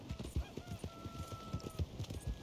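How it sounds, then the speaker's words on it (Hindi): A horse gallops in Red Dead Redemption 2 with a steady, rapid clip-clop of hooves, close and fairly quiet, with a brief whinny-like tone partway through. "तेज दौड़ यार घोड़े।"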